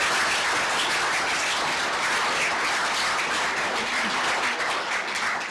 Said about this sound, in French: donnez-moi un peu d'applaudissements pour l'équipe